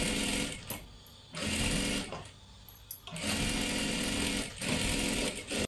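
A sewing machine stitches a dress sleeve, its fast whirring run starting and stopping in several close bursts with short quiet pauses between.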